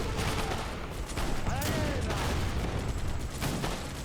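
Dense, sustained volleys of gunfire crackle without pause in a Wars of Liberty battle, with rifle shots overlapping into a loud, continuous fusillade and a few heavier booms.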